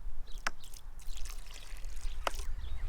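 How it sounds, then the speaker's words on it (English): Water trickles and splashes softly into a well of sand and cement mortar being mixed by hand, with a couple of brief sharper splashes over a low, steady background rumble. "you can put a bit of water in"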